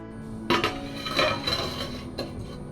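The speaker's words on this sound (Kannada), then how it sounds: "ಇದಕ್ಕೊಂದು ಪಾತ್ರೆಯನ್ನು ಮುಚ್ಚಿಡ್ತೇನೆ" A metal lid clanks onto a boiling cooking pot, giving a loud clatter followed by a few lighter rattles and a final clink as it settles, with no speech.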